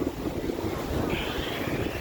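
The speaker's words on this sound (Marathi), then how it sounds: "लाटा भरपूर येतात" Sea waves wash against the shore at Marine Drive, Mumbai, during the first rain, heard as a steady broadband roar mixed with wind buffeting the microphone, close and unbroken.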